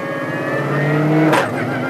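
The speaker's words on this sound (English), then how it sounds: "Cuts the engine for a split second while you change." A car engine revs up loudly and steadily, then a brief cut and burst as a quick shifter cuts the engine during a clutchless gear change without the revs dropping, close by.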